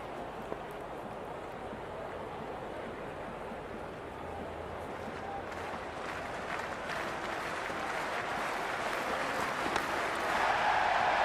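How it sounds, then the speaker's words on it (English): Stadium crowd in the Cricket 26 video game during an IPL match between CSK and MI: a dense, steady roar of cheering that swells gradually louder toward the end. "already the crowd is up and about"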